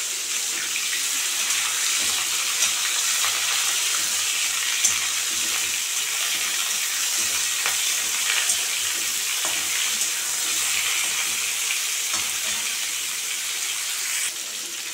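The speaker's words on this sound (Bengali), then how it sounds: "ফুলকপিগুলো ভাজা ভাজা হয়ে গেছে" Cauliflower pieces frying in hot mustard oil give a steady, close sizzle and hiss that holds unbroken at an even level throughout, with no voices.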